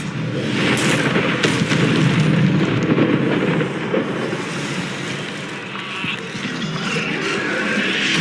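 Confringo and Incendio spell blasts in the Hogwarts Legacy video game burst loudly in quick succession, with fiery rumbling booms and crackling impacts that settle into a lower rumble.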